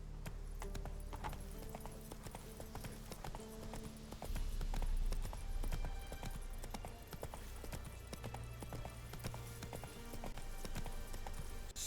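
Horse hooves clip-clop steadily in The Witcher 3 video game, a continuous trotting rhythm with a brief louder stretch midway, and a faint voice occasionally heard over it.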